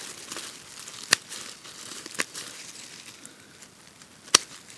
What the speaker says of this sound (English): with your secateurs or scissors you're just going to cut all this foliage back